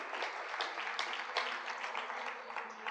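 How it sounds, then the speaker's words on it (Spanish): A church congregation gives brief, fairly soft applause after a call to prayer, dense clapping sustained over a few seconds. "Dale palmas al Señor."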